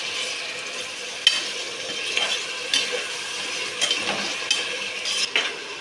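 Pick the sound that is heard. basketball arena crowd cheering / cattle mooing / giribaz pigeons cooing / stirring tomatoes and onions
stirring tomatoes and onions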